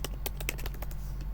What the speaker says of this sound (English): now we type a new title